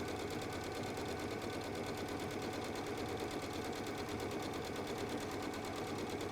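A sewing machine stitching a straight seam, its needle running in a steady, fast, even rhythm, close and moderately quiet, with no talk.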